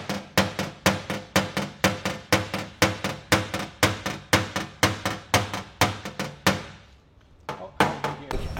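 A hammer pounds out a dent in metal, landing rapid, evenly spaced loud blows with sharp metallic ringing, about three per second. The blows pause briefly near the end, then a few more strikes follow.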